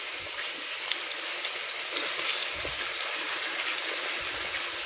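Chicken breasts browning in a frying pan give a steady, close hiss of sizzling oil with a few soft low bumps and no voices.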